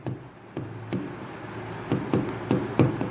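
A pen writes on paper during a class 7 maths exercise on exponents, in a run of short, close scratching strokes at an uneven rhythm, with no talking.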